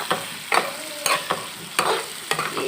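Potatoes and eggs fry with cumin powder, garam masala and red chili in a pan, a steady sizzle broken by repeated scraping stirs about every half second, close and with no talk.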